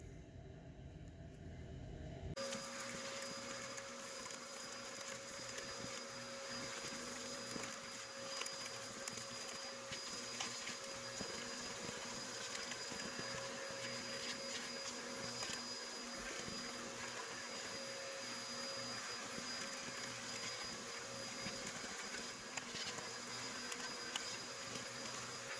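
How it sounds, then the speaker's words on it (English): A vacuum cleaner switches on and runs with a steady, droning whine for a long stretch, sucking junk out of the crankcase of a 1959 Case 800 tractor engine during a rebuild, with no talk. "get a vacuum cleaner in there,"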